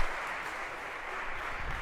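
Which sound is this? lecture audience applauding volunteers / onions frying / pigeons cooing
lecture audience applauding volunteers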